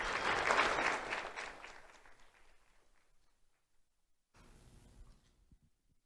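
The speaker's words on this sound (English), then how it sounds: "Let's have a round of applause for Gardenia Hernandez." A crowd applauds an award recipient at a community awards ceremony, the clapping loud at first and then thinning and fading, with a brief quieter burst of clapping near the end.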